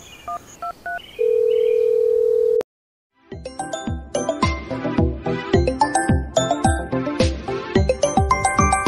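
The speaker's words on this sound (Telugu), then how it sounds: "ఒకసారి కాల్ చేసి చూద్దాం" A phone is dialed with a short run of keypad beeps and a long held tone, followed by a brief silence. Then a bright, plucked melodic ringtone plays in a loud, repeating rhythmic pattern, with no talking.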